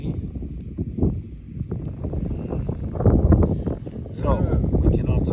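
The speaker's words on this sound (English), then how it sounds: "it is still windy as hell" Strong wind buffets the microphone in a steady low roar on a wheat and pea farm, with people talking over it throughout.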